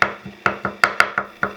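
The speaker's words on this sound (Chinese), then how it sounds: "切一些豆豉，20粒左右就足够了。" A knife chops fermented black beans on a cutting board in a quick, even run of about eight crisp, close knocks.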